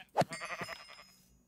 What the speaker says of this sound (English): we're gonna slaughter some sheep